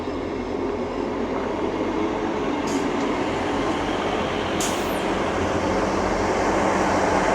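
A Hull Trains train, not in service, rumbles steadily nearby with a constant broadband roar, with faint high squeals from the wheels now and then.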